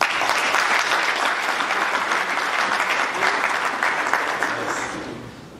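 Conference audience applauding steadily at an event on the new Silk Roads in Yamoussoukro, a dense wash of many hands clapping that holds for several seconds and then tapers off.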